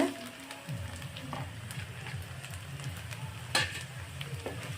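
Fried prawns being stirred into masala in a pan, with a steady scrape-and-sizzle texture punctuated by a couple of sharper utensil knocks, close and fairly quiet throughout.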